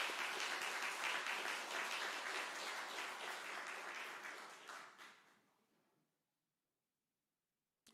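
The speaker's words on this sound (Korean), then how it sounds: "우리 박수로 한번 격려하겠습니다." A church congregation at an Easter Sunday service applauds in a dense burst of clapping that gradually thins and fades to silence after about six seconds.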